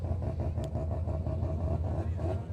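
A supercharged 2-litre Mazda races on an off-road short course, its engine a steady low rumble at moderate distance with slight swells in pitch as it goes by.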